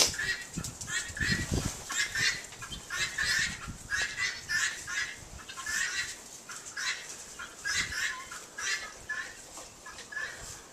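A noisy flock of fowl and other birds keeps up a continuous, overlapping clamor of squawks and calls, loud and close, with rhythmic bursts swelling and fading throughout and no talk.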